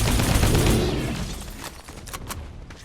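Gunfire from a burst rifle and a drum gun in the game Fortnite during a horde battle, a rapid rattling volley that fades to scattered sharper shots near the end, fairly quiet overall.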